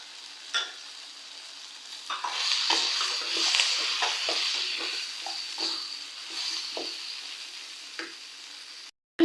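A cup of grated coconut with curry leaves fries in a pan, making a crackling sizzle broken by repeated scraping spatula strokes before a sudden stop.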